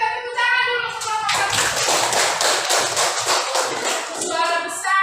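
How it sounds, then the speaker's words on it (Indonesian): A group of students in an Indonesian classroom claps together for another group, giving a loud, dense burst of applause lasting several seconds, with children's voices briefly before and after. "kita tepuk tangan dulu ke kelompok"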